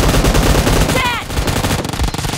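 Rapid automatic gunfire in a team deathmatch video game, loud close bursts of shots filling the clip, with game voice callouts mixed in.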